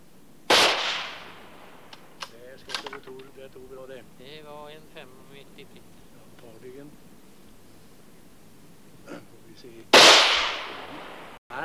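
Two sharp gunshot cracks ring out during a 1960s hunt in Sweden, one near the start and one near the end, with someone speaking between them.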